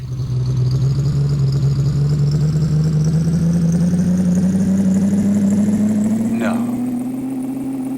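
Truck engine in the video game Big Rigs: Over the Road Racing, a loud steady droning hum that slowly rises in pitch throughout, with a brief scrape near the end.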